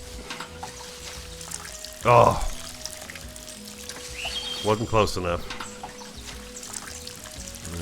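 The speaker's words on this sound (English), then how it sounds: "Give our weed a drink of water here." Short bursts of pouring, splashing water from watering a plant in the survival game Lens Island, two distinct gushes over a soft ambient bed with birdlike chirps, and a voice speaking briefly between them.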